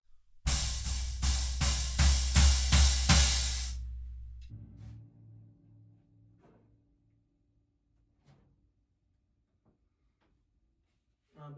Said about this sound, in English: using the hi-hat and the floor tom.